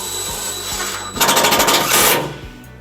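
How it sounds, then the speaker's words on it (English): A power tool drives a self-tapping screw to fasten a trailer wiring ground wire on a 2004 Chevrolet Colorado, giving a loud, close whirring burst of about a second and a half after a quieter start. "we're going to secure our ground wire with our provided self-tapping screw"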